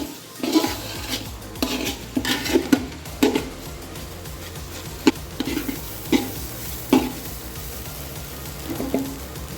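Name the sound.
stirring and frying rice with spices in a pot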